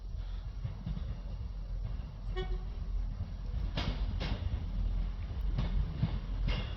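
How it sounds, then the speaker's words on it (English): A Class 158 diesel passenger train gives a short horn toot at Dingwall station, a brief tonal burst rising over steady rumbling background noise, followed by a few further sharp sounds as the train approaches. "Got a toot."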